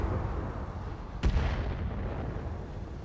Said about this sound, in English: particle cannon snipe from the Panther